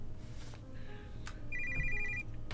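An incoming call rings on a phone in a story game, a short electronic ringtone burst of rapid repeating tones over a low background hum.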